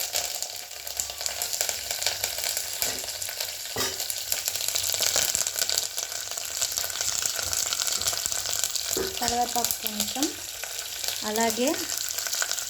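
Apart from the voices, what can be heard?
green chillies frying in oil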